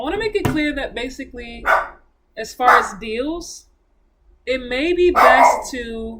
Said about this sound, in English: That's just a dog barking in the background.